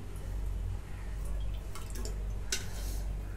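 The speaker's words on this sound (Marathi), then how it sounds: "तेल ओतून घेते." Oil pours into a pot on a gas stove while sambar is being made. It gives a faint, soft trickle with a few light drips and ticks against a low background hum.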